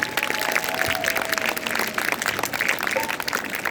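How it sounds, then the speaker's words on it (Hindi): Audience applauding performers at a stage show, a sustained wash of clapping from a sizeable crowd, fairly loud and continuous, with a few faint tonal sounds in the background. "तालियां उन कलाकारों को जो भूखे रहकर आप लोगों को इस काबिल बनाते हैं"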